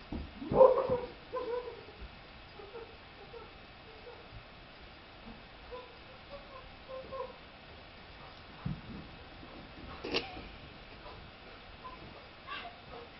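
Dogs heard intermittently with scattered short yips and whimpers over a low background, a few sharper bursts standing out here and there.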